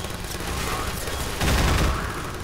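Continuous distant-sounding gunfire in Half-Life 2, a steady noisy rattle of automatic weapons that swells louder midway through, with no clear pauses.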